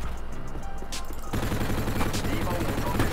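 Gunfire in the online shooter Call of Duty Online: rapid automatic shots break out about midway and keep going under a busy game mix, with background game noise before they start.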